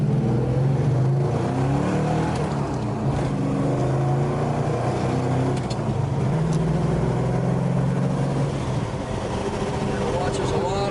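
A 1969 Plymouth Road Runner V8 idling and being revved at an outdoor car show, a low rumbling engine note that swells and settles in a few blips, fairly close and steady, with crowd noise in the background.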